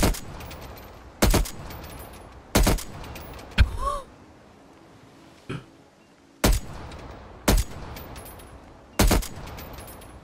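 Gun shooting in Call of Duty Cold War, single loud shots fired at a slow, regular pace of roughly one every one to two seconds, with a brief grunt-like vocal sound and a short quiet gap midway.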